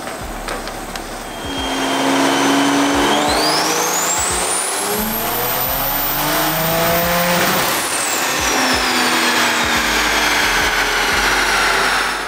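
A big-turbo A90 Supra with a stock B58 engine roars through a hard dyno pull, loud and close, the engine note climbing steeply through the revs, holding near the top and then falling away, with turbo whine and tire squeal in the mix.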